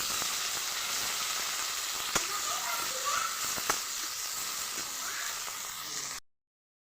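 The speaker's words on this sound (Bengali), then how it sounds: "পেঁয়াজটা একটু লাল লাল করে ভেজে নেব।" Chopped onion and tomato frying in hot oil make a dense, even sizzle with a couple of sharp ticks, fairly soft and continuous, ending abruptly in silence near the close.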